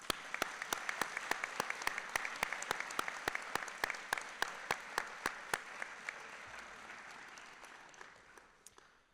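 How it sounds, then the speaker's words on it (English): An audience at a Juniata College fall convocation applauds, a steady roomful of clapping with sharp individual claps standing out near the microphone before it tapers off. "please join me in a round of applause to just say thank you for our Juniata team"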